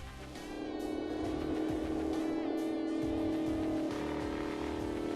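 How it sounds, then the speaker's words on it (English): A 2024 Shelby Super Snake's supercharged 5-litre V8 of 830 brake horsepower, heard loud and close as it revs and pulls hard, with a steady engine drone, rising supercharger whine and burbling exhaust throughout. "If you can't tell from the whines and burbles of that stunning soundtrack, this 830 brake horsepower monster gets a 5-litre V8 unit in supercharged specification."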